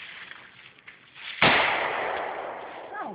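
A single loud, sharp shot from an AR-15 rifle, fired by a first-time shooter at a target. The crack rings out and trails off into a long echoing decay, with no talk over it.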